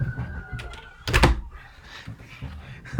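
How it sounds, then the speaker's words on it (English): A window being shut indoors, a single solid thunk with a brief rattle near the middle, close and fairly loud, with faint background noise before and after. "Let me just shut the window on, hang on."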